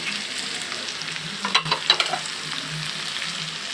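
Rice and lentils being fried together in a pot for khichuri, a steady close sizzle with a few stirring scrapes and clatters in the middle.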